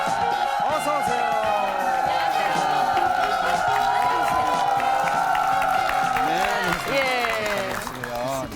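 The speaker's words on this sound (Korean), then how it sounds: "박수 맞아주세요" A studio audience claps and cheers to welcome a guest onto a Korean talk show set, with music and a voice running through the sustained applause.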